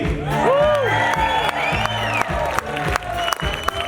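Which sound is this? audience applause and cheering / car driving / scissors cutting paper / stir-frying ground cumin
audience applause and cheering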